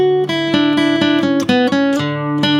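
Electric guitar plays three rock-country jam-band licks in a row, a quick run of distinct picked notes with slides and held bends, loud and up close with no talking.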